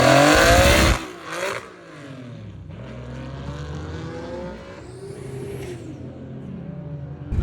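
VW Mk2 with a naturally aspirated 3.6 VR6 pulling away on a drag strip, a loud burst at first, then a rising engine note that sweeps up through the gears as the car recedes into the distance.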